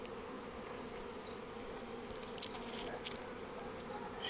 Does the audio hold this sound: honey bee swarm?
yes